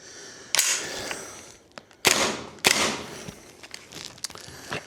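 KWA Masada gas blowback airsoft rifle firing several sharp, close single shots with metallic bolt clacks, spaced irregularly, with quieter handling and magazine rattles between them.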